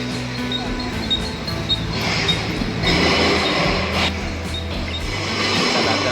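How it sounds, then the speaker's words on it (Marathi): A crowded Mumbai local train rumbles and rattles steadily inside a carriage, with clattering wheels and faint background chatter from passengers. "चला आता ट्रेनमध्ये बसून घेऊया भरलेली आहे ट्रेन"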